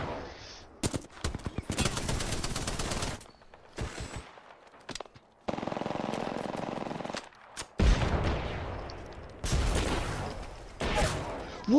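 Gunfire in the video game Apex Legends, with repeated bursts of automatic weapon fire broken by short silences and sharp single shots, loud and close in a busy firefight.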